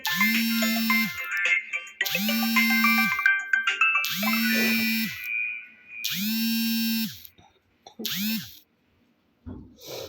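A phone ringtone plays a bright electronic melody in five loud repeating bursts with short gaps between them, and no one speaks.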